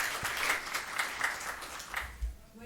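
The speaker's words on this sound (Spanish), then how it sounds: "Por favor, un aplauso para ella." An audience at an arbitration conference applauds a speaker being introduced, a dense, even patter of clapping that tapers off toward the end.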